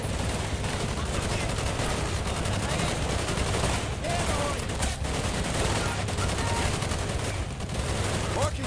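Dense, sustained automatic gunfire from a Call of Duty Black Ops match, loud and continuous throughout with bursts overlapping, while players talk excitedly over it.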